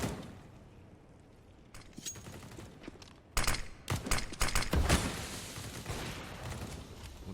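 Shotgun fire in a Counter-Strike match between Furia and Renegades on the Nuke map: after a quieter stretch of scattered shots, a loud burst of rapid, close blasts erupts and keeps going amid game noise.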